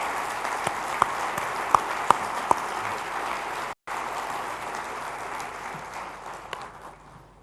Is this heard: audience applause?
yes